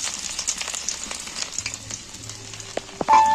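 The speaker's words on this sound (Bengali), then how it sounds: "আমি প্রথমেই তেলের মধ্যে আদা আর রসুনটা তুলে" Chopped ginger and garlic sizzle and fry steadily in hot oil in a pan for a Bengali fish curry, a close continuous hiss with a few small pops and clinks near the end.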